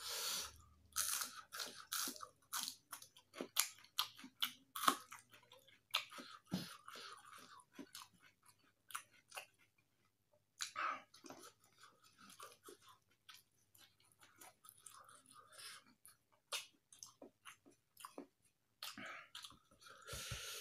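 Close, crunchy chewing of jengkol balado (dogfruit in spicy chili sambal) eaten with omelette and raw vegetables, with irregular wet bites and crunches repeating steadily throughout, interspersed with soft breaths.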